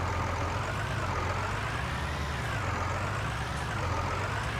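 A steady, loud tractor engine in Farming Simulator 19 rumbles and drones continuously with a low throbbing hum, no voices.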